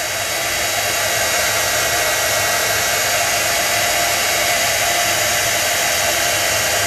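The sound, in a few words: heat gun drying ink on cardstock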